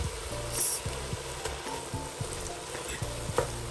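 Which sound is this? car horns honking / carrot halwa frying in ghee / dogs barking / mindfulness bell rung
carrot halwa frying in ghee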